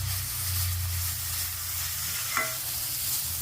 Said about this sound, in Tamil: இந்த கேரட்டு நல்லா வேகணும் அது வரைக்கும் நல்லா வதக்கணும்